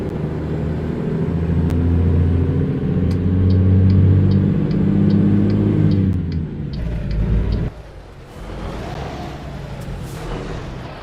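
A truck in American Truck Simulator rumbles with a low engine drone that swells and shifts pitch as it drives through a city, then drops abruptly to a quieter idle, with faint repeated ticking clicks overhead.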